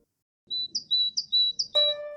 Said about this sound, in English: Great tits are cute, yellow and black woodland birds that are endemic to Europe and sing an iconic two-syllable